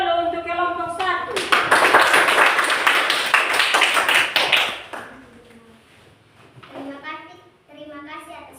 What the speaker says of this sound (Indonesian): Kita memberi aplaus dulu untuk kelompok 1.